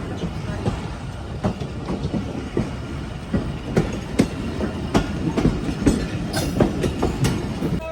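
A train runs steadily on rails in Pakistan, a loud continuous rumble broken by rhythmic clickety-clack wheel beats, heard close with no talk.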